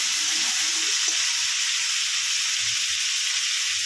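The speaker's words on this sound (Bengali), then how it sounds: "চিংড়ি মাছটাকে লাল লাল করে ভেজে নেবো" Shrimp fry in a pan until reddish, giving a steady, close hiss of sizzling oil throughout with faint low clatters of stirring and no talk.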